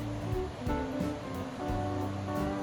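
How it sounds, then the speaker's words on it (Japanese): A swollen river rushes steadily after days of continuous rain, a broad, constant roar of moving water close by, with periodic surges in the flow and no voices. "雨が続いて通常より水かさの多い川。"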